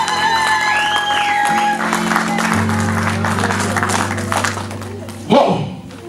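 A church congregation claps and cheers in acclamation over sustained keyboard chords, with scattered thumps and a louder burst near the end.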